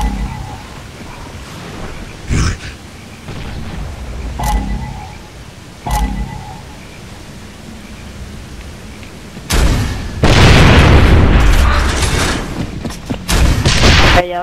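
Gunshots and explosions from an online shooter video game: scattered sharp single shots early on, then a loud sustained burst of heavy blasts and rumbling fire toward the end, with faint voices in the background.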